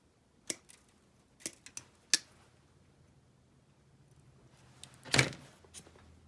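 Cutters snip stranded wire ends on a farm chicken water heater repair, a few sharp isolated clicks close by, then a louder cut after a quiet pause.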